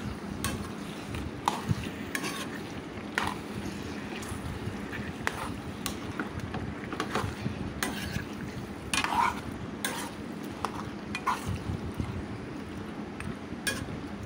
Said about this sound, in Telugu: వెల్లుల్లి పేస్ట్, ఉల్లిపాయ మొత్తం కూడా కూరకు పట్టే విధంగా స్లోగా కలుపుకుంటారండి